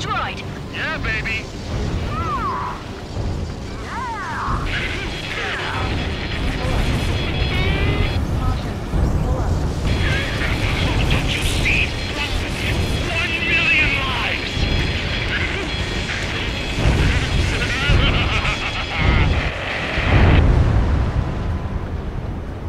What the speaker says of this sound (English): Confirming explosions!